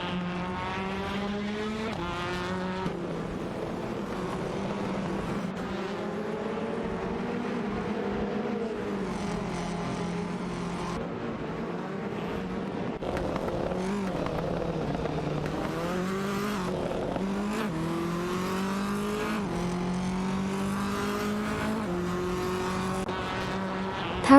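Race cars including a Ford Focus RS, Honda Civic and Alfa Romeo Giulietta TCR battle in the Live for Speed racing game, with loud engines whining up and down through gear changes and occasional tire squeal throughout.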